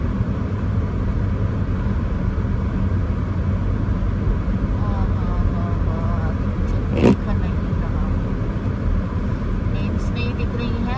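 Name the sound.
car heater fan blowing at full speed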